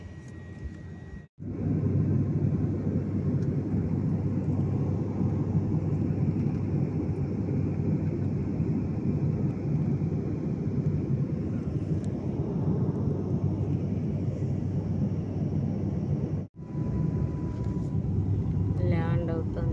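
Passenger airplane landing, heard from inside the cabin, with a loud steady engine roar and rumble that briefly cuts out twice, and a voice talking over it.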